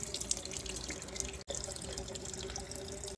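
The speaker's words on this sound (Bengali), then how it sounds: "এবার আমি পুরো মুখটা ধুয়ে নিচ্ছি" A tap runs steadily into a sink while someone rinses their face, giving a soft, continuous trickle and splash at low level, with a couple of brief breaks.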